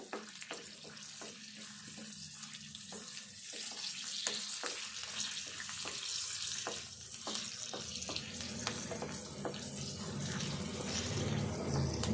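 Tempering spices, chana dal, chillies and onion sizzle and crackle in hot oil, a steady close frying hiss with occasional sharp pops and a brief stirring scrape.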